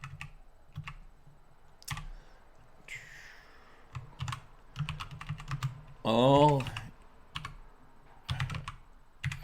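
Typing on a computer keyboard in short bursts of quick, close key clicks separated by pauses, with a brief spoken word in between.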